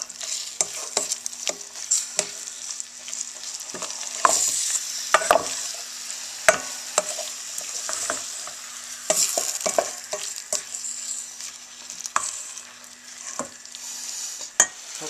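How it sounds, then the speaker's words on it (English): Shrimp frying in a pan for shrimp étouffée give a continuous close sizzle, broken by repeated scraping taps as a utensil stirs them, with no talking. "you're going to cook this for about a minute until the shrimp are all turned pink"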